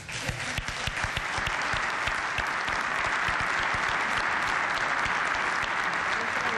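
Dense, sustained applause from a gala audience for a song award fills the hall, starting with a few distinct claps and swelling into a steady, even roar throughout.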